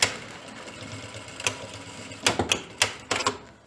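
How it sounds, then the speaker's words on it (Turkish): A sewing machine stitches the back pocket of a pair of trousers in short, sharp bursts and clacks, close and separated by brief pauses. "Aynı şekilde şu kısmı da şöyle makine çekiyorum."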